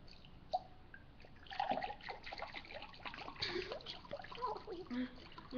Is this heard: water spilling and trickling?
yes